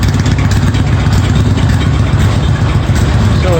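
A 1981 Yamaha XS650 Special motorcycle engine idles up close. The low, even rumble runs loud and steady throughout.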